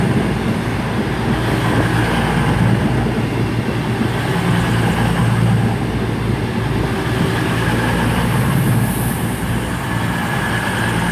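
Class 221 unit 221-109 moves through Chester station, giving a loud, steady, close rumble of engine and wheels that holds evenly for the whole stretch.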